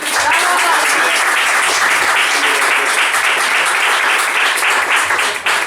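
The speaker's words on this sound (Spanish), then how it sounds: "Den un fuerte aplauso para David." Audience at a literary event in a gallery café applauding for David, a loud, dense, sustained burst of many hands clapping that keeps going for several seconds before starting to fade at the end.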